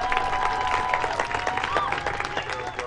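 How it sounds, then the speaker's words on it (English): An audience applauds the student leaders of a high school marching band, clapping steadily with crowd noise and a few voices mixed in. "One more round of applause for our student leaders."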